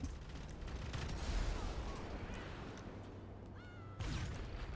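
Rapid bursts of gunfire crackle continuously over a dense, noisy Grand Theft Auto V Online game soundscape, with occasional whooshing effects and no voices.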